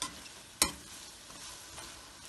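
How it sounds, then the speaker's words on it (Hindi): Minced meat qeema with yogurt and black pepper is bhuna-fried over high heat, a low steady sizzle with one sharp spatula knock against the pan early on, then quieter stirring. "अब इसको भूनेंगे।"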